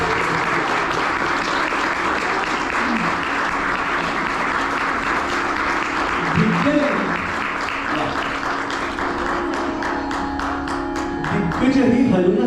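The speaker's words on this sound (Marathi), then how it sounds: "तर या दोघांसाठी सुद्धा एकदा जोरदार टाळ्या" At a Marathi cultural programme, the audience claps steadily and loudly for the harmonium and tabla accompanists, with a few faint tones from the instruments and brief voices within the applause.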